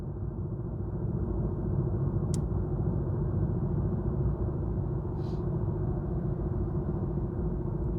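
A car drives along the road at steady speed, giving a constant low engine hum and tyre rumble throughout, with a couple of faint brief clicks inside the cabin and no talking.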